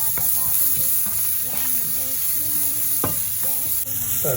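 Onions and garlic being stirred in a frying pan for an eggplant tamarind curry, with a steady close sizzle under scraping spoon strokes against the pan.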